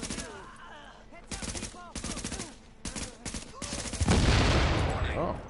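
Video game gunfire comes in rapid automatic bursts separated by short gaps, with a longer, denser fusillade toward the end, loud and close amid game sound effects.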